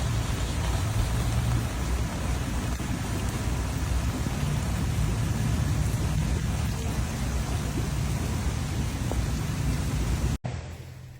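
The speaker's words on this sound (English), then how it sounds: "The sheer volume of rain was staggering." Heavy rain pours steadily during flooding in Detroit, a dense loud hiss with low rumbling underneath, cut off abruptly near the end.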